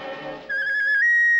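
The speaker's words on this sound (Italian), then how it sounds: "Se avessimo il fischietto magico, saremmo salvi." A magic whistle blown in a Smurfs cartoon: a bright, sustained pure tone that starts abruptly, holds steadily, then steps slightly higher and continues, loud and close, following a brief stretch of voiced sound.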